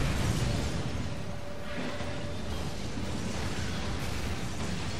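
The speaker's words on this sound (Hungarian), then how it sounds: "Föl fog robbanni." A steady, loud, broadband roar from an explosion in the video game Resident Evil 6 fills the whole stretch without a sharp onset, with no talk over it.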